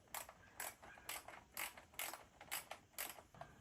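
A ratchet clicks back and forth tightening a 10 mm skid plate bolt, about eight quick evenly spaced bursts of sharp pawl clicking, close and fairly quiet with no voices.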